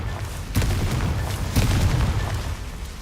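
Two booming fire-blast explosions from the Confringo spell in the Hogwarts Legacy video game, each a sharp loud burst followed by a rumbling tail, about a second apart, no voices.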